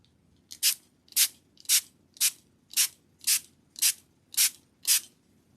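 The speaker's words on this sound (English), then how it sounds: "spraying it with the hydrogen peroxide solution to activate the rust" A spray bottle fires hydrogen peroxide solution in nine evenly spaced, sharp hissing spritzes, close and loud against a quiet background with no speech.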